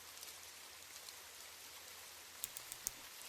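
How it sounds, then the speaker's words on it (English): Steady soft rain falls throughout, a quiet even hiss with a low rumble beneath and a few sharper drip-like ticks near the end. "It's raining."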